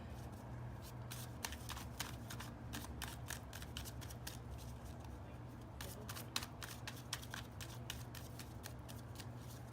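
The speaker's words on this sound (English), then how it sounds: "I'm trying to shuffle the cards so I can actually give you guys a reading" Tarot cards riffle and snap in a quick, crackly shuffling flurry, followed by sharper scattered flicks, close and quiet over a low hum.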